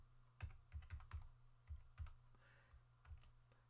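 Someone types on a computer keyboard while working in Word for Mac, producing quiet, irregular bursts of close key clicks with short pauses between them and no talking.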